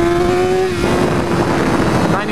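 A 2014 BMW S1000R motorcycle accelerates hard on an open road, its engine a loud, continuous roar that starts as a steady pitched drone and then surges into a broad, rough howl, with wind buffeting throughout.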